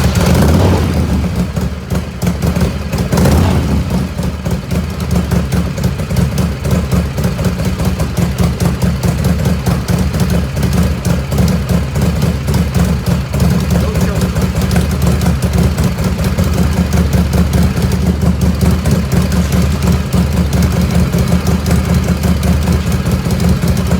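A 1985 Harley-Davidson FXRS Evo motorcycle engine idling steadily after being cranked with some choke, a loud, close, continuous lumpy rumble that holds the same pace throughout.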